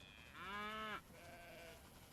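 Livestock on a cattle train arriving at a meat house in the Railroad Empire USA video game give a loud bleating call, then a softer, lower second call over steady background noise.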